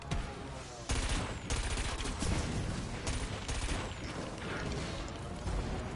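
Rapid cannon fire in the VR game Wipeout Booneheads on PS4 comes as a loud, dense barrage of sharp repeated blasts with mechanical clatter, sustained from start to finish.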